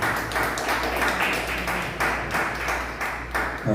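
A church congregation claps together in a steady, rhythmic beat, moderately loud and even, with an organ-like hum held underneath.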